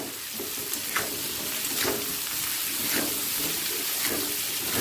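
Sliced brinjal sizzles and fries with potato, onion and garlic in hot oil over a high flame, a steady dense crackle with periodic stirring scrapes, close and continuous.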